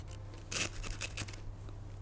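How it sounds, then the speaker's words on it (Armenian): A knife cuts through a pistachio-paste appetizer, producing a short cluster of crisp, crackly crunches up close before settling into quiet background. "Լսում եք, չէ՞ խրխտան"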